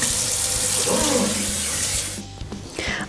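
Water runs hard from a tap into a container to soak vinyl, a loud steady gush that cuts off near the end, leaving a few drips and small knocks.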